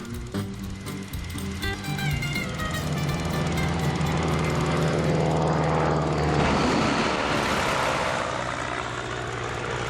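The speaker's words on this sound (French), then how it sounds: "On utilise jusqu'à 8 jatos pour donner aux gros porteurs militaires et à leurs lourdes cargaisons une poussée supplémentaire" Heavy military cargo plane taking off from a short runway with JATO rocket boost, a loud continuous roar of engines and rocket thrust that swells and holds for the whole stretch, with no voices.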